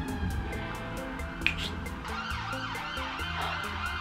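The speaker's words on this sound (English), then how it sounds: "Sorry, there's a lot of sirens." Wailing sirens rise and fall steadily over continuous road traffic noise, with one brief sharp click partway through.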